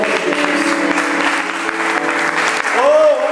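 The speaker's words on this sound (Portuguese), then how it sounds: "Aplaudindo ao Senhor, querido, em nome de Jesus." A church congregation claps in praise while standing, a loud dense applause with a sustained voice or tone sounding over the clapping.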